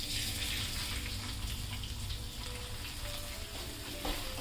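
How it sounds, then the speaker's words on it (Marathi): Rice frying in ghee with whole spices for coconut rice, a constant close sizzle with stirring scrapes running evenly throughout. "हे तांदूळ आहे तुपामध्ये चांगले व्यवस्थित फ्राय करून घ्या।"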